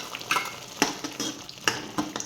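Coconut paste being stirred into a red-masala drumstick curry in a pan: repeated scraping, sizzling stir strokes come in close, uneven bursts, with no voices.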